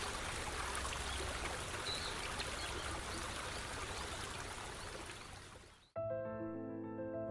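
Water at Tahquamenon Falls rushes in a steady, loud, full roar for about six seconds. It then cuts off abruptly and gives way to sustained tonal music.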